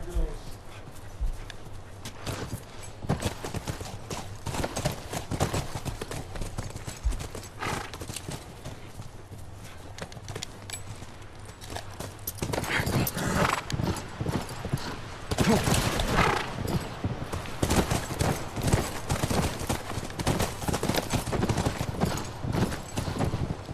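Horse hooves clip-clop steadily in the video game The Last of Us, a continuous, prominent rhythm that grows louder partway through, with a horse whinnying and some talking mixed in.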